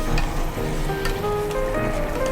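Peeled eggplant stir-fried in a pan for spicy catfish, giving a continuous close sizzle with soft stirring movement, steady and moderately loud across the short stretch.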